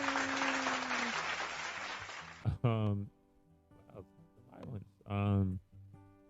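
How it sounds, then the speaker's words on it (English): Canned applause from a soundboard: a dense burst of clapping and cheering rolls for about two seconds, then cuts off abruptly as people start talking. "Yay, applaud."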